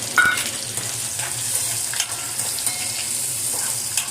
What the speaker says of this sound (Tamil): இப்போ வந்து இதில் நான் வந்து வெங்காயத்தை போட்டுக்கிறேன், பூண்டையும் போட்டுக்கிறேன்